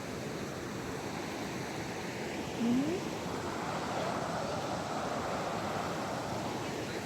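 Oyacachi river in Ecuador's Napo province rushing past in light rain near hot springs, a steady broadband roar of flowing water, close and continuous, with a brief faint tonal chirp partway through.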